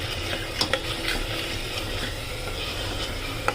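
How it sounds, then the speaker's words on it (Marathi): Pickle masala being stirred and sautéed in a hot pan with vegetables, a steady sizzle broken by scraping spoon strokes and a few light clinks against the pan. "लोणच्यात जो मसाला वापरतो तो पण टाकूया आणि छान परतून घेऊया।"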